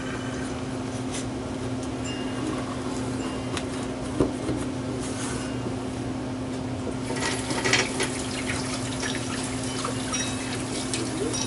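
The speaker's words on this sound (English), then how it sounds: "I'm gonna put a little water on the knife." Water running from a kitchen tap to wet a knife, a steady hiss of flow over a low electrical hum, growing a little busier and splashier toward the end.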